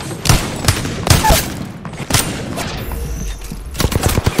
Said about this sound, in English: What's he shooting at?